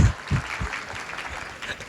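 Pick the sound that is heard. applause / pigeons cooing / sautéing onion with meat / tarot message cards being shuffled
applause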